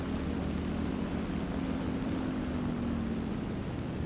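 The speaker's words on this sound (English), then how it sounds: "as Daetoris throttles down his engine, of course." A War Thunder aircraft engine throttles down in a steady, continuous drone with a slowly falling tone over several seconds, no voices.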